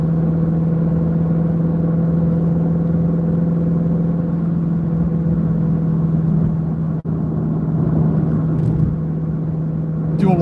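A Ford Shelby GT350 with about 120,000 miles drives along, its engine a loud, steady, even drone heard from inside the cabin with no talk.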